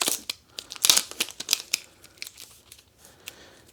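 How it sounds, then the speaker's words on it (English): Plastic wrapping crinkling and tearing as a new ThinkPad T490 laptop power brick is unwrapped, close bursts of rustle and crackle that start loud and thin out, with no talk. "Let me unwrap this in case it gets hot so it can breathe."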